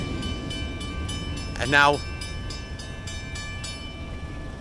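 Eastbound freight train passing a level crossing, a steady rolling rumble with a rhythmic ticking, likely the crossing bells, and a brief tonal swell partway through; someone speaks briefly.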